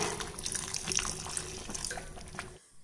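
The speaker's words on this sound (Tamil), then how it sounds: "இப்போ நான் அந்த மீதி இருக்க தண்ணியுமே இதில் சேர்த்துறேங்க." Water pours steadily into a pot of semolina kichadi cooking over medium heat, a close, splashing gurgle that runs nearly throughout before cutting off at the end.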